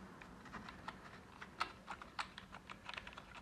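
Someone types steadily on a Trust GXT 830 Avonn keyboard at a desk, producing a quiet, close run of irregular key clicks with no talking.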